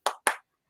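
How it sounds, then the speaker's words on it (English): Two sharp hand claps from a child, close and fairly soft, evenly spaced and followed by quiet. "over here clapping about it"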